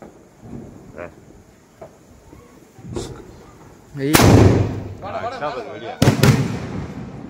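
Several sharp Diwali firecracker bangs burst out, with a loud cluster near the middle and another pair of cracks near the end, over background voices.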